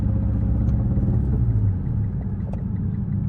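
A Mitsubishi Lancer Evolution X, damaged in shipping, idles with a steady low rumble, close and even, dipping slightly in level partway through.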